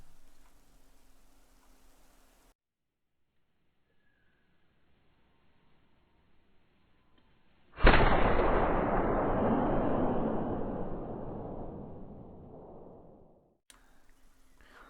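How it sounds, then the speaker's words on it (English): In the hunting video game theHunter, a single loud rifle shot is fired at a bighorn ram 250 meters away. It breaks a near silence and rolls into a long echoing rumble that fades over several seconds. "Alright, we're gonna go for a shot."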